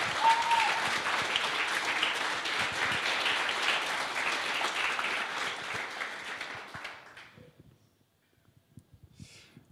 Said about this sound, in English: please give a great applause to this team that has put this together